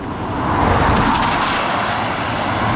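A car passes close by on a wet road in the rain, a broad rushing hiss of tyres and engine that swells and holds loudly for a few seconds.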